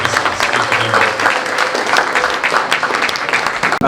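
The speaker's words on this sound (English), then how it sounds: "So we'll welcome Saad with a round of applause." Loud, continuous audience clapping at a joint Rotary Club installation evening, many hands together in a thick, even round that carries through the whole stretch.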